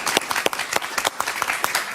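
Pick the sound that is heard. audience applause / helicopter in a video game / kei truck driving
audience applause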